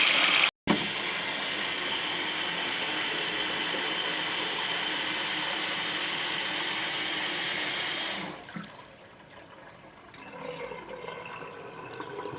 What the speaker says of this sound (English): All the water is going down.